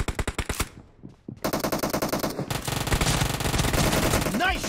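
Machine gun fire in the mobile shooter BGMI comes in rapid, loud bursts of evenly spaced shots, a short pause, then sustained dense fire with game effects layered over it.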